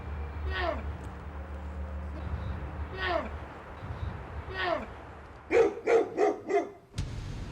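Dogs bark in three spaced, sharp yelps, then a quick burst of four louder barks near the end, out in the wild during an encounter with a bear and its cub.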